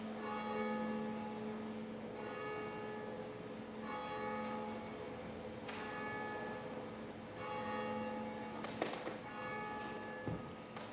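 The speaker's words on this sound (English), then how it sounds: "We go now to our bell tower, where I believe Ben Fox and Jen Buchwald are ready to ring our bell." Church bell rung from a bell tower, sustained ringing tones that strike again every couple of seconds, steady and moderately distant, with a few thumps near the end.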